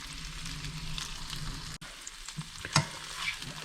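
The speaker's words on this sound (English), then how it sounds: "I will let this cook until the green beans start to change color" Green beans and vegetables sizzle and fry steadily in a hot pan, a close, continuous crackle with occasional stirring scrapes.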